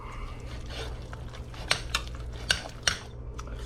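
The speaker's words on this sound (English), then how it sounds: "I'm just gonna kind of stir it all together" Potatoes being stirred together in a pan on a grill, a low background hum broken by a few sharp metallic scrapes and clinks of the utensil against the pan, fairly quiet and close.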